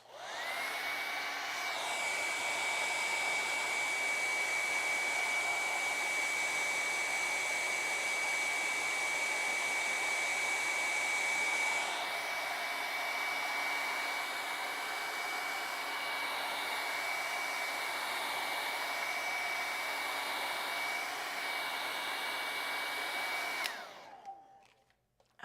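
A hair dryer blows over wet acrylic paint on a sunrise lake landscape canvas, a loud steady whoosh running for about twenty-five seconds, with a slight shift in pitch midway before cutting off abruptly.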